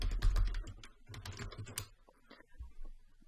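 Someone types a password on a computer keyboard during an online sign-up, a rapid burst of close, crisp key clicks with brief pauses and a few isolated taps near the end.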